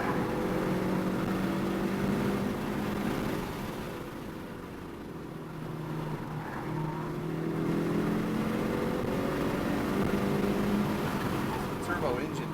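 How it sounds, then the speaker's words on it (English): A 2021 Hyundai Veloster N's turbocharged engine pulls hard on a racetrack, its tone climbing, dipping and rising again in repeated surges, close and loud, with a voice talking over it. "The turbo engine is so good."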